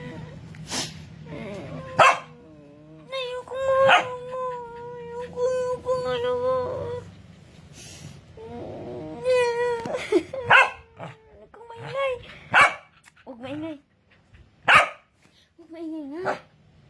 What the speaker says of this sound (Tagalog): Tapos ikaw pa may gana matahol-tahol.